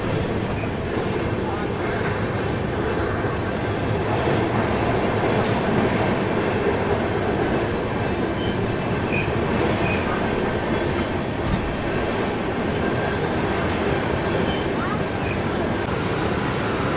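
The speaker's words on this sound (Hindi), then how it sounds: "सामने है बिहार की सबसे फास्टेस्ट और सबसे प्रीमियम राजेंद्र नगर न्यू दिल्ली तेजस राजधानी एक्सप्रेस" The Tejas Rajdhani Express rushes past Rajendra Nagar station in Bihar with a steady, loud roar of rolling wheels and rail clatter. A faint squeal rises above it now and then, and a voice can be heard faintly under the noise.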